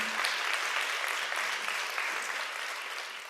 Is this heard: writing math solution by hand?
no